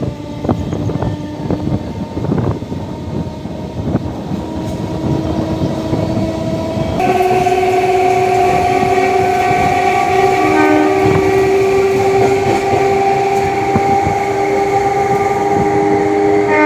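A passenger train rolls along with a steady rumble and rhythmic wheel clatter, then a long sustained horn blares loudly and close for the second half, with no talk.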